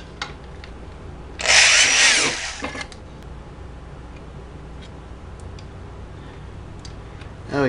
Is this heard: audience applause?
no